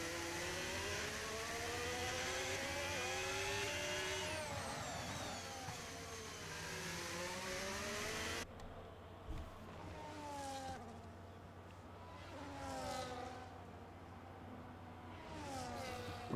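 Formula 1 cars in a racing video game at the US Grand Prix in Austin scream past in a dense, steady engine whine with shifting pitch, quiet in the mix, and a lone car dominating after a sudden cut midway.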